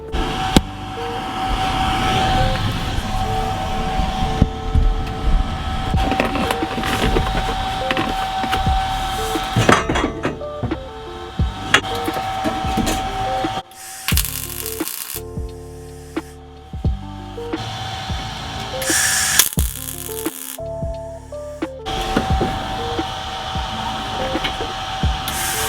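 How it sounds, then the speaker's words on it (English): A welder fuses tack-fitted roll cage tubes with a sustained, rough hissing crackle that runs close and loud, breaking off briefly between weld passes. "So I just need to eagle these up on both sides and weld the hell in there."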